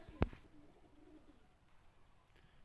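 A young pigeon held in the hand gives a single short, soft coo near the start, close by, followed by faint quiet background.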